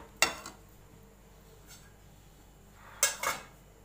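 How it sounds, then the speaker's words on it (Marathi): Pots clink while milk goes into the cream pot for Punjabi-style paneer bhurji: a sharp metallic clatter near the start, a faint tap midway, then a second cluster of two clanks toward the end, close by and otherwise quiet. "जे मलईचं भांडं होतं ना त्याच्यातच थोडं दूध ॲड करते मी।"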